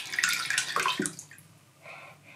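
Water gushes from a household tap with a steady hiss, splashing loudly at first and then easing to a softer flow. It swells briefly again near the end, with no voices.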